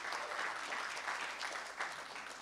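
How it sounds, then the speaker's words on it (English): A crowd applauds steadily, a dense wash of clapping hands sustained throughout with no pauses. "round of applause right here, deserves a round of applause"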